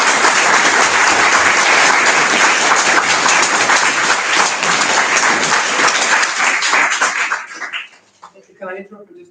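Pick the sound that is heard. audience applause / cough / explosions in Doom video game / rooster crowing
audience applause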